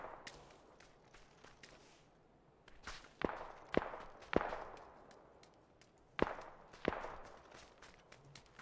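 Gunfire in a battle royale video game: several sharp distant shots crack one at a time at irregular intervals, faint over a low background hiss.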